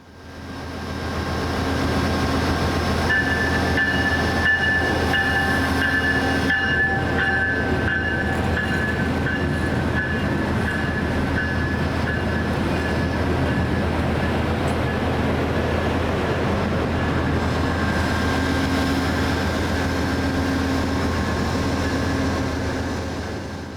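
A G Line commuter rail train bound for Arvada rolls along with a steady loud rumble and faint clickety-clack throughout, a tonal whine rising partway through, heard from on board with no talking.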